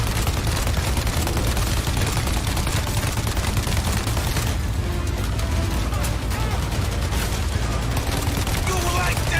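Sustained heavy gunfire and automatic weapon bursts from the Mafia: Definitive Edition gameplay trailer, loud and dense throughout with rapid overlapping shots and crashes, and a voice speaking over parts of it.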